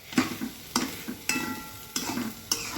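Bitter gourd (karela) sabzi is stirred in a pan, with a spatula scraping and clacking at a steady rhythm of about five strokes under a soft, continuous sizzle, close and fairly quiet.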